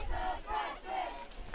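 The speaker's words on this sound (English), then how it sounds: "Another "Here he's a freshman" chant from the crowd here at Montclair-Kimberley Academy" High school lacrosse crowd at Montclair-Kimberley Academy chanting in unison during a prep championship game, a rhythmic, moderately loud group chant repeated in waves.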